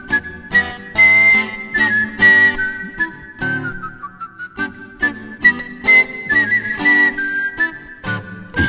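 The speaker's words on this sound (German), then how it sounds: "Was nützt es, über einen Kunstpfeifer zu lesen, wenn man ihn nicht hören kann?" Artistic whistling by a professional art whistler in a home studio, a loud, close melodic whistle with trills and phrasing breaks, performed alone with a quiet accompaniment underneath.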